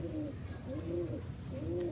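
Racing pigeons in a loft give repeated soft, low cooing calls, three rolling phrases spaced evenly and close by, with no talk over them.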